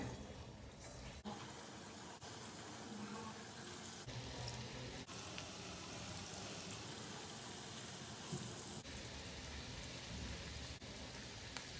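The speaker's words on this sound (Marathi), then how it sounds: "तेल तापलं आहे लगेचच यामध्ये भजे सोडूया" Moong dal fritters (bhaji) dropping into hot oil and frying, a dense, steady crackling hiss that fills the whole stretch with no voices.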